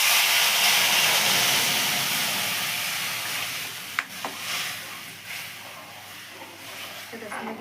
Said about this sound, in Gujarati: સરસ મજાની આપણે કઢી ડોયેલી છે એટલે વઘાર કરી નાખશું